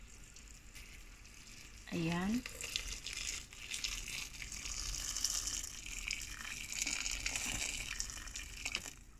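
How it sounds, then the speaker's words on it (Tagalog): Hot water pours into a pan of chicken adobo with a sustained hissing, gushing splash, quiet and close, while someone speaks briefly. "ngayon lalagyan natin siya ng tubig na mainit"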